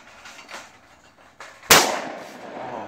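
Shotgun fired at a clay target on a mountain course, one sharp loud blast that decays into a ringing tail, preceded by quieter outdoor thumps and rustles.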